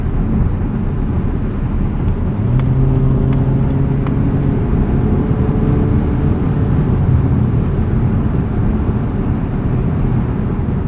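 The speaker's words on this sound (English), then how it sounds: "It's a little bit of tire noise going over bumps on the highway, but for the most part, there isn't a ton of wind noise." Steady tire roar and low road rumble inside the cabin of a 2026 Mazda CX-30 2.5S at highway speed, a continuous loud drone with a few faint bumps and thumps, no talk.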